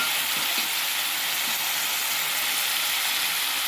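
Broad beans sizzling in hot oil in a pan, a steady, even frying hiss with a few faint clinks, no talking.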